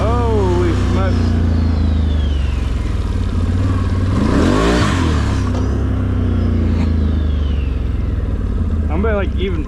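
A Can Am Renegade 1000 ATV engine revving at about half throttle in low range, a loud, continuous rumbling drone that swells and falls, close up, with someone talking over it.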